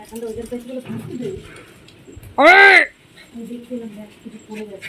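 A single loud, pigeon-like coo rises briefly between stretches of quiet background talking.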